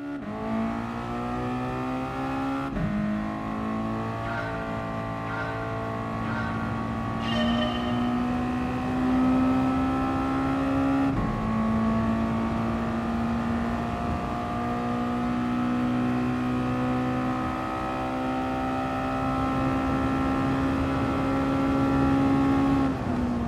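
A car engine in the Gran Turismo Sport racing game holds a sustained drone, with pitch shifting as it revs up and settles several times, steady and fairly loud throughout.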